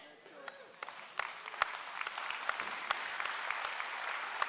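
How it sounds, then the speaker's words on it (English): Congregation in a church service applauding steadily throughout, a dense wash of many hands with a few sharper claps standing out, fairly distant and even in level. "Not everybody here is clapping right now."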